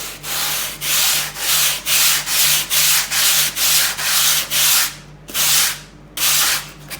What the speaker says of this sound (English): I'm just going to grab a bit of sandpaper and just a block of wood for now.